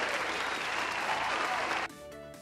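Dense applause sound effect played over a livestream, a steady wash of clapping for nearly two seconds that cuts off abruptly, leaving a faint tonal hum behind.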